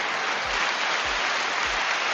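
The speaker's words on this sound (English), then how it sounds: "Give yourself a round of applause" A dense, uniform wash of applause, like a canned crowd clapping, holds steady and loud, with a low thump recurring about every half second beneath it.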